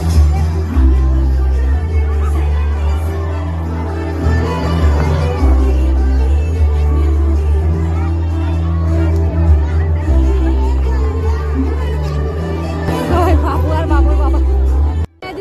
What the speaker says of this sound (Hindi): इतना भीड़ है ना